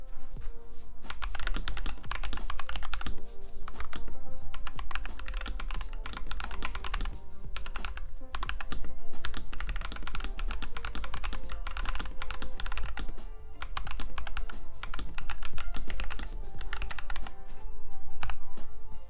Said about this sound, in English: First, we have the Halo75, which is going to be with the Rose Glacier switches and the updated spacebar design,